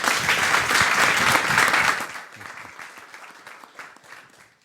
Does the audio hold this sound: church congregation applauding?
yes